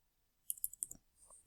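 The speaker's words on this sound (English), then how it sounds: "So this is where I can type in a message" A handful of quick, light keystrokes on a computer keyboard while typing a chat message, close and quiet, about half a second of clicking then a faint tap.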